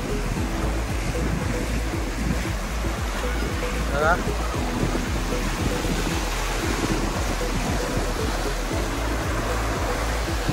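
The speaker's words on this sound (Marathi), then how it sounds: "मस्त बघा लाटा कशा मोठ्या मोठ्या येत आहेत." Big sea waves breaking on a clean beach along the Ratnagiri coast, a steady loud roar and wash filling the whole stretch, with someone speaking briefly over it.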